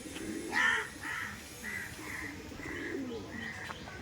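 A pair of Kolkata Kaldom pigeons coos close by, a series of soft, evenly spaced throaty notes repeating over about four seconds with no talking.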